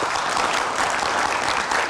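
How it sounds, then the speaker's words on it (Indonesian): Steady, dense applause from a studio audience on a television talk show, a loud, continuous wash of many hands clapping together with no talk over it. "Kita berikan tepuk tangan."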